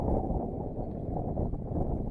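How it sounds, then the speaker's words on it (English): Strong winter wind buffets the microphone outdoors while fishing, a steady low roar rumbling continuously with no voices. "It is so windy out here."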